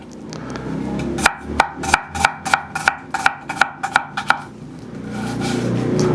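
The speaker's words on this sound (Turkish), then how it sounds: "Şimdi soğanı doğramakla başlayalım." A knife chops onion on a cutting board for a meat börek, with about a dozen steady, evenly spaced thuds close up that stop after a few seconds.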